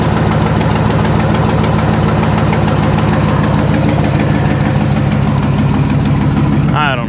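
A used car's engine runs rough at an auction, a loud, close idle with a rapid uneven knocking pulse that stays steady until it stops abruptly near the end.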